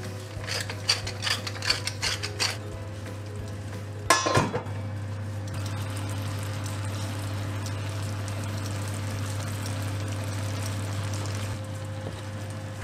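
A pepper mill cranks in several quick ratcheting bursts of grinding clicks over braised endives with honey, goat cheese and walnuts, followed by a clatter and then a steady low hum.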